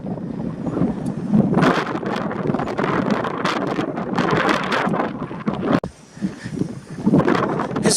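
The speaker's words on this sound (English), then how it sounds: "It's very windy, so I can't do much filming" Strong wind gusting and buffeting the microphone on an open road in the Nevada desert near Daveytown, a loud, steady roar with sharp gusts throughout and a brief lull near the end.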